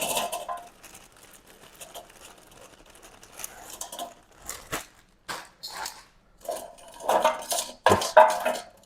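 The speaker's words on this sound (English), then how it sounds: "I'm going to put some chips in there." Frozen chips are tipped into an air fryer basket with clattering and rattling in irregular bursts, louder toward the end, close by with no speech.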